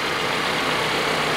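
The small EcoBoost engine of a wrecked 2022 Ford Bronco idles steadily, a close, even rumble with no change in pitch and no talking over it.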